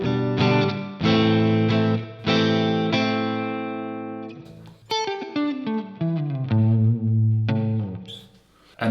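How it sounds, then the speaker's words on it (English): An electric guitar plays through a Boss RV6 reverb pedal set to its room mode, ringing chords and single notes with short, smaller-space reverb tails, loud and alone, pausing briefly between phrases. "we have the room, which is a similar vibe,"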